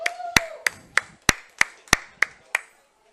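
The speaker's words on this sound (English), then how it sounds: "Let's give him a big hand." A few sharp, separate hand claps ring out one after another at a roughly even pace in a quiet room at a football team gathering, about eight claps with clear gaps and no crowd roar.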